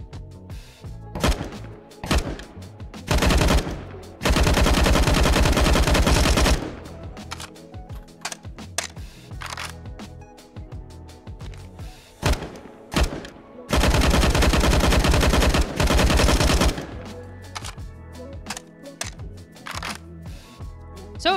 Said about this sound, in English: And then also over here we have the AUG from Counter-Strike.